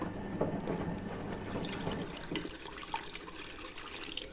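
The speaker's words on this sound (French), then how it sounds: "Histoire de juste rincer mon petit bac." Water splashing and trickling as a small tub is rinsed, a continuous close wash of running water with gurgling bursts, no speech.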